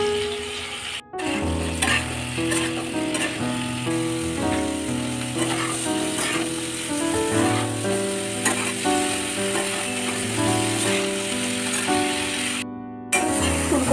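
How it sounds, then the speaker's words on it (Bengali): Potatoes and cauliflower fry together in the leftover oil in a kadai after fish was cooked, giving a steady, loud, continuous sizzle that is close and fills the whole stretch, with faint clatter and no talk. "একই সাথে ভেজে নেবো আলু ফুলকপি।"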